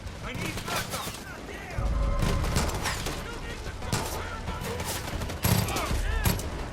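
A firearm in the video game Far Cry 5 fires in repeated bursts, with sharp, loud shots clustered close together amid other game sounds.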